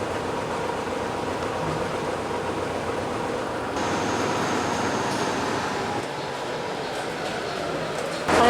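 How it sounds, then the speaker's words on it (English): A passenger train bound for Cardiff, Wales, rumbles steadily in motion, its low rolling drone continuous throughout and swelling slightly louder midway, with faint background voices now and then. "now we're just getting on the train to Cardiff"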